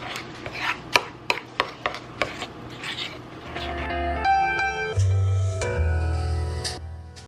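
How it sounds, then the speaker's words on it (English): Cinnamon being mixed into a paste in a bowl: a run of sharp, irregular spoon-on-bowl taps for about three seconds, followed by a steadier, tonal ringing layer. "And now we just mix it together for a paste."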